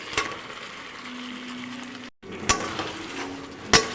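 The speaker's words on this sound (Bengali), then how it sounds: "আমি ভালো করে মাংসটা কষিয়ে নিচ্ছি যতক্ষণ না তেল ছেড়ে যাবে" Marinated meat with salt, ginger, garlic, dried chilli, cumin and turmeric sautéing in mustard oil: a steady moderate sizzle with sharp clinks of stirring near the start, middle and end, broken by one brief gap.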